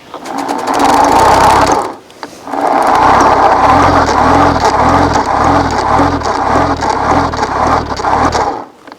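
A steady mechanical whirring drone with a rapid rhythmic pulse from a high-mileage Old Town Salty 120 PDL kayak pedal drive, fairly loud and close, briefly pausing before running on again without talk.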